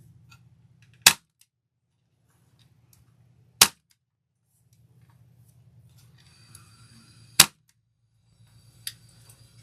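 A staple gun fires staples into a UITC wreath board while a flower wreath is assembled, producing three sharp, loud snaps spread several seconds apart with a fainter fourth click, separated by quiet handling noise and low hum.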